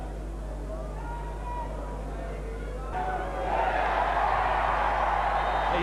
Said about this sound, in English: The roar of the crowd tells you.